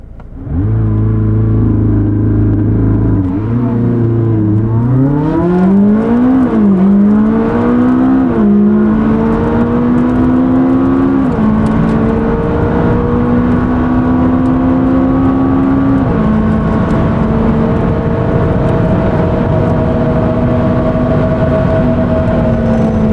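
A McLaren 600LT and a Lamborghini Huracan Performante accelerate hard on a cold day, with loud engine notes climbing in pitch through several gear changes and then holding a steady high drone. No one speaks.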